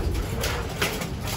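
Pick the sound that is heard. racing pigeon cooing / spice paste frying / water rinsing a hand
racing pigeon cooing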